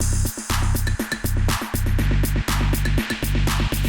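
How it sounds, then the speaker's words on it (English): A snare roll buildup programmed in Maschine for house music, with rapid, evenly spaced hits layered over a pumping bass-heavy beat, loud and close. "how to create a snare roll in Maschine for house buildups"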